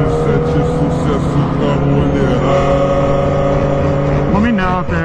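A 500cc two-stroke motocross bike engine roars loud and steady in a freestyle motocross run ending in a backflip, with a high buzzing drone that rises and falls briefly near the end and people talking over it.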